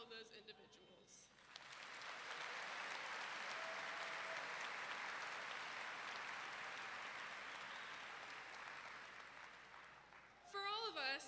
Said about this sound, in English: let's give a round of applause to all of those individuals